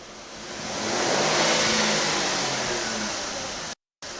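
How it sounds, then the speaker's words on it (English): A car engine is pressed to about 2500 RPM for an exhaust gas test, the revs swelling to a broad roar and then easing back down before a short dropout at the end. "quickly hit the accelerator until the RPM goes up to 2500 and then release it immediately"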